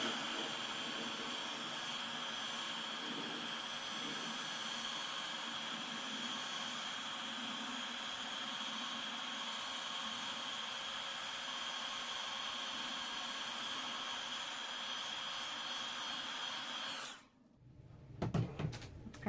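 A heat tool blows continuously, a steady close hiss melting clear embossing powder on a stamped card, running for about seventeen seconds before switching off into faint handling noises.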